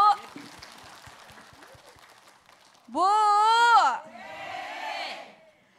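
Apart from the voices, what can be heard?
audience applause and cheering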